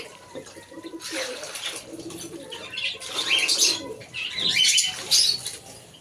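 Pigeons coo in soft repeated bursts nearby, with some rustling and brief wing flutters between calls, no talking.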